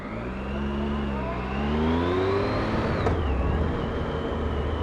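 A Triumph Tiger 1050 Sport motorcycle under way on a road, its engine note droning steadily and rising and falling with the throttle, wind noise rushing over it throughout.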